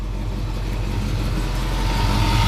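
A 1972 Chevrolet Chevelle SS convertible with a 350 V8 idling, a steady low rumbling engine note with even pulsing, heard close and alone.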